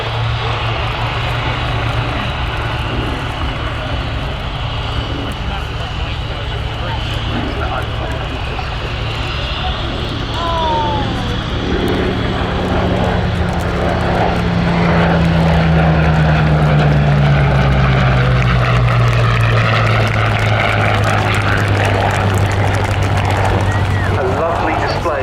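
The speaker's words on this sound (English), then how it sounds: "final pass for the Hawker Hurricane 1" A Hawker Hurricane Mk.I fighter makes its final flypast at an air show, its propeller engine droning and rising to a loud pass with a falling pitch as it goes by, over steady crowd and wind noise.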